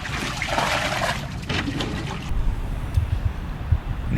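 Water being emptied out of a sailboat gushes and splashes steadily for about two seconds, then drops to a quieter trickling and dribbling with a few low knocks, with no talking.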